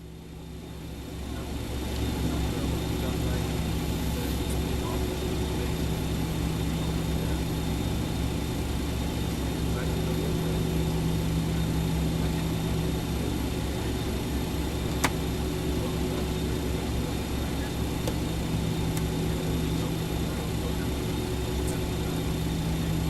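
Jet engines of a BAe 146-200 airliner in USAir livery in Microsoft Flight Simulator 2020, a steady broadband whine with a low hum that swells up in the first seconds and then holds level and loud throughout, with no talk.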